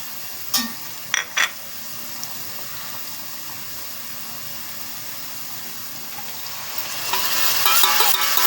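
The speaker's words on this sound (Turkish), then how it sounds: "Biberini patatesini attım. Kavruluyor." Peppers and potatoes fry in hot oil in a pan, a soft steady sizzle broken by a few sharp utensil clinks early on, swelling louder near the end as the pan is stirred.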